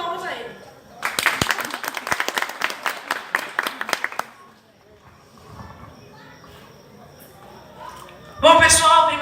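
A short burst of audience clapping breaks out at a lecture on Cangaço during the Mostra Gonzaguiense in Exu, Pernambuco. It lasts about three seconds, then fades into quiet room noise, followed by a brief louder sound at the end.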